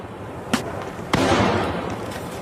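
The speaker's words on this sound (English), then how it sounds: "That's how gunshots look." Two sharp gunshot-like reports in news footage of a shooting in which a gun misfired: a short crack, then about half a second later a louder bang with a lingering, noisy tail.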